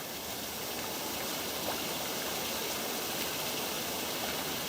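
Steady, dense rush of Fountain Creek Waterfall heard from the top in misty conditions, continuous and even, with no other sounds standing out.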